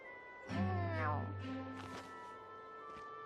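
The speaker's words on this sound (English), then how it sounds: "You hungry, fat cat?" A cat in a Tales of Xillia 2 cutscene gives one drawn-out, whiny meow, clear and close over soft game background sound.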